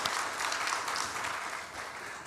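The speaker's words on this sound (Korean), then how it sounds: "환영의 박수 하겠습니다" Congregation clapping in welcome during a Sunday church service: a steady, dense wash of many hands applauding throughout, fairly even in loudness and fading slightly toward the end.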